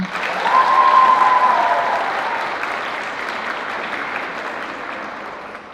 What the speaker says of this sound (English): we're going to say her name and give her a round of applause